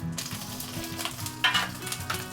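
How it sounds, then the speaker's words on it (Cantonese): Rice and egg stir-fried in hot oil in a wok for salted fish and chicken fried rice give a steady close sizzle, with a brief metallic clink midway over faint background music. "然後啲飯啦就加埋落去咯。"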